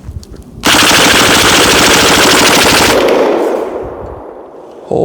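A Diamondback DB15 AR-15 pistol in 7.62x39 with an Atrius switch dumps a magazine in one continuous, very loud fully automatic burst lasting over two seconds, then ringing echo fades out.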